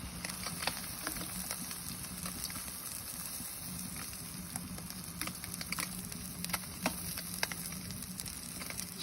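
Food frying in a pan over a campfire, giving a continuous crackling sizzle with scattered sharp pops and spits, close and moderately quiet.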